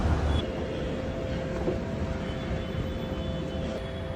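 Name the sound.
metro station ambience, Shyam Park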